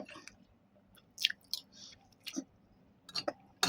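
Someone chews food close to the microphone, making a few moist, crunchy bites and mouth sounds spaced over a few seconds against a quiet background.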